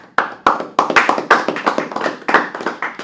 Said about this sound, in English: We just got a round of applause for Miss Myers real quick